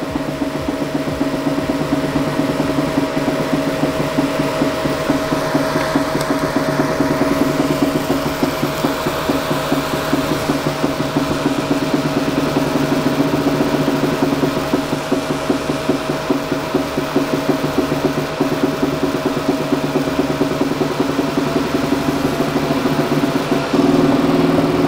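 A LaserPecker 4 dual laser engraver at work, giving off a steady, loud mechanical whir and rapid rasping buzz with a constant tone that runs unbroken throughout, close up and with no voices.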